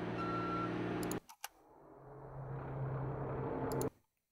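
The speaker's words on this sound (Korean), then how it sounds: "개비지 트럭 백인 뭐 이렇게 되어 있습니다." A garbage truck backs up with a steady mid-distance engine drone, then cuts out briefly before a quieter rumble returns, with short high beep-like pulses at the start and end.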